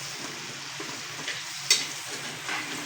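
Butter melting in a pan as fat for chicken curry, a soft steady sizzle with one brief clink partway through, quiet and without speech.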